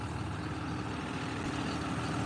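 A CLAAS tractor with a John Deere 6.8 engine idles evenly outdoors, giving a steady, close, low rumble with no voices.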